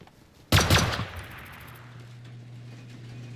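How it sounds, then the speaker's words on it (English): Gunshot in the video game Rust on console, a single loud sharp blast followed by a short rattling burst and a fading low rumble, alone without talk. "So if like I shoot this here"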